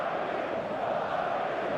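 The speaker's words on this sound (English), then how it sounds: "The moans and groans from the crowd are quite audible now." Football stadium crowd moaning and groaning in frustration during a match, a steady dense murmur of many voices with no single sound standing out.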